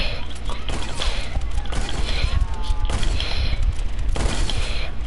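Bursts of gunfire in a video game, rapid shots and mechanical clatter packed tightly over a few seconds, loud and close.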